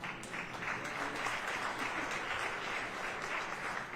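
Steady, dense applause from a large audience at a university State of the University address, sustained at even loudness for the whole stretch with no voices standing out.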